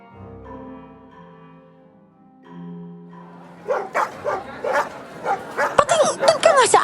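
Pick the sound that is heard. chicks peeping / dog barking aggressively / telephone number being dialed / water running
dog barking aggressively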